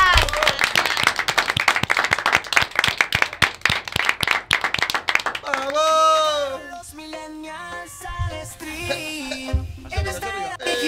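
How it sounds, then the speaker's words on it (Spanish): Sharp, close clapping from a studio audience at the final episode of a Millennials show, crisp and rhythmic for about five seconds before music and voices take over. "¡Aplauso!"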